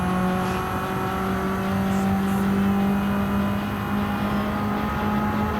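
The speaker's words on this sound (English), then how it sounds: "I love the sound of going through a tunnel" A 500 hp 2015 Mitsubishi Evo in Gran Turismo 7 droning steadily through a tunnel, its engine a continuous loud hum with reverberant tonal whine and no pauses.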